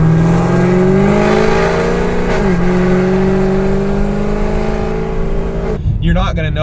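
A modified 694 WHP Chevy SS with its exhaust valves open in sport mode, holding a loud, steady droning rev that dips briefly and then cuts off sharply near the end, heard close up.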